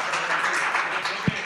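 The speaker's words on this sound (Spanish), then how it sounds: "los periodistas intentaron animar al timonel con aplausos" Journalists at a press conference applaud with a steady, fairly close wash of clapping and one brief low thump near the end.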